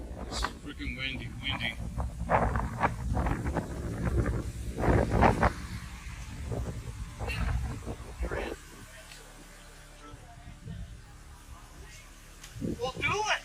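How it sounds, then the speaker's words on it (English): Strong wind blows into a handheld microphone outdoors, a heavy low rumbling buffet running continuously under people talking, louder in the first half and easing later. "It's freaking windy."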